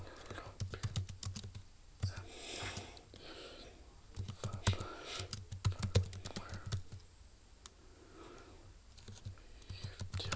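Fingers type in bursts on the small keyboard of a 2016 Samsung Chromebook 3 laptop, fast clattering key clicks that stop and start, with quiet murmured talk between bursts.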